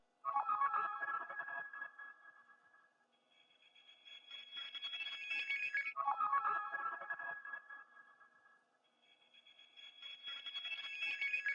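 A synth arpeggio, reversed, pitched down and chopped, with an effect rack, plays as two repeating phrases that swell and fade in wavering, alarm-like tones, faint and without voices, for a dark beat.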